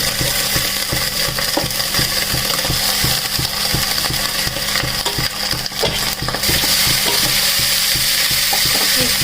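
Soaked flattened rice tossed and fried in a hot pan for an egg chira biryani, loud continuous sizzling with rapid rhythmic spatula scraping and clinks, close up, no one speaking.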